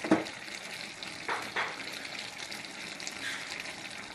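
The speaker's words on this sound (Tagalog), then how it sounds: "magisa po sa sarili niyang mantika" Pork for an adobo with papaya sautés in its own fat, a soft, close sizzle with a few louder stirring bursts near the start, fairly quiet and without talking.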